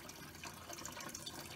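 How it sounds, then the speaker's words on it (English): Tap water running steadily into a sink while a hard-boiled egg is peeled under the stream, a soft continuous splashing hiss, faint and unbroken with no voice. "you're going to peel it under the water"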